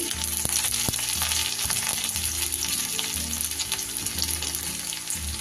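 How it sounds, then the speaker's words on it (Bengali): Chopped onion frying in hot mustard oil crackles with a continuous bright sizzle, with intermittent stirring knocks and low pan clatter nearby, no talking. "তেল গরম হলে একটা মাঝারি সাইজে পেঁয়াজকে কুচি করে রেখেছিলাম সেইটা দিয়ে দিলাম"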